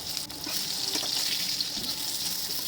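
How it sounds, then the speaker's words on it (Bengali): Eggplant pieces fry together in a pan of hot oil, giving a close, even sizzle that hisses steadily throughout with faint bubbling. "আমি সব বেগুনগুলোকেই একসাথে ভাজছি।"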